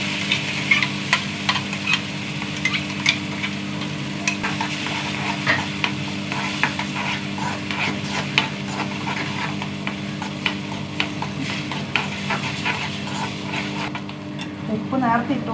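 Tomato going into a hot pan with asafoetida and curry leaves, sizzling steadily while a spoon stirs with repeated scraping clicks; a voice talks over the frying.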